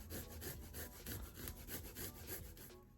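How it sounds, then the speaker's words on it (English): Fresh ginger rubbed over a grater in a kitchen, a quiet rhythmic rasping of repeated strokes, close and alone. "I also have a small piece of ginger that I'll be grating and adding to here"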